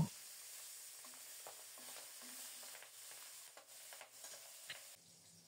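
Pabda fish frying in mustard oil with chili, a soft continuous sizzle with scattered light clicks and scrapes as the pieces are turned, steady throughout.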